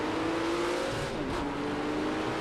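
A GTP race car engine in Project CARS 2 at Daytona, a loud close roar that dips briefly in pitch as the car shifts down, then keeps droning on a steady note, with no talking.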